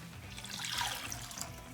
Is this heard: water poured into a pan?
yes